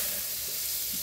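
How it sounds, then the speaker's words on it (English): Meat frying in a pan with hash browns on the side: a continuous close, loud sizzle and hiss with no talking over it. "so the meat is frying, so it gets all the juices and stuff"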